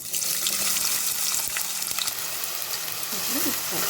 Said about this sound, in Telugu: ఆయిల్ హీట్ అయిపోయింది ఇప్పుడు ముందుగా కట్ చేసి పెట్టుకున్న ఉల్లిపాయ ముక్కలు వేసుకుందాం